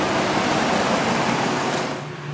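Dodge Dakota engine with an intermittent skipping, rich-running condition runs close up with a steady mechanical whir, then the sound drops and fades as it is shut off near the end.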